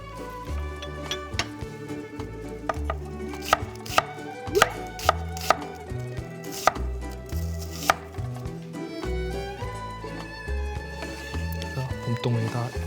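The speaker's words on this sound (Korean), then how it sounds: "봄동에 들어갈 양파를 가늘게 슬라이스해서" A knife thinly slices onion on a cutting board with quick sharp taps in an uneven run, set under continuous background music with no words.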